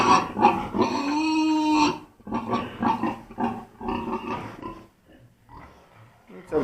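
Pigs grunt and snort in a run of rough, throaty bursts up close, with short pauses between calls and no talking.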